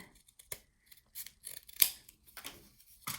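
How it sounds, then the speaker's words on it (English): Scissors trim paper for a mini flip book album in a few short, crisp snips and rustles close up, with small pauses between the cuts. "So I'm just going to go ahead and trim this down a little bit."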